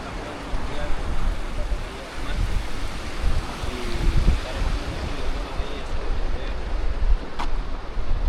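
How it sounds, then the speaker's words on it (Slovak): Atlantic Ocean surf rolls onto the shore in a steady, broad wash, with gusts of wind buffeting the microphone close up. "sme pri mori, pri Atlantickom oceáne"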